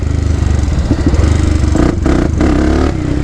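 Polaris Predator 500 ATV engine running steadily up close, a loud continuous rumble with brief throttle blips and dips, no talking over it.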